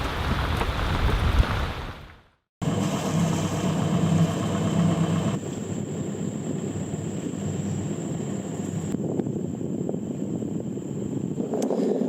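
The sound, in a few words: rain falling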